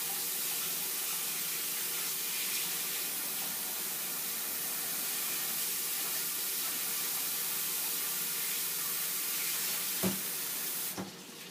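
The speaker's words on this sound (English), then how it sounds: "Let me wash my hands because this is kind of bothering me." Water runs steadily from a tap in a continuous hiss as hands are washed, with a brief splash and clatter near the end as the flow cuts off.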